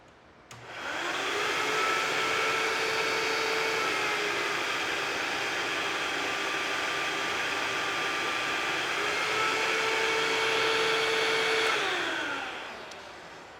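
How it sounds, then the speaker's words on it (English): A vacuum cleaner running on a solar sunlight-backup system during a brownout starts up, drones steadily, dips in pitch as its speed drops, then rises back to full speed before switching off. "causing the vacuum cleaner to operate at a lower speed and the light to dim because it's running at lower voltage"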